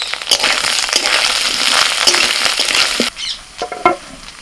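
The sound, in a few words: potatoes and taro sautéing with spices in pan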